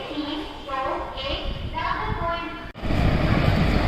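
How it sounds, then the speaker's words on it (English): A long passenger train arrives at a railway station platform, its locomotive rumbling in, with station noise and voices around and a louder roar of the train building up near the end. "There's a train which has come, and there's the locomotive"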